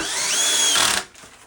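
Power drill driving a screw into a wooden bed frame, a loud steady whirring whine close by that winds up in pitch and then cuts off abruptly, leaving quiet room noise.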